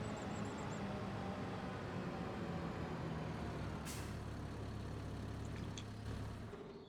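A truck in Farming Simulator 25 releases its air brake in a single sharp hiss midway through, over a steady low engine rumble that keeps running throughout.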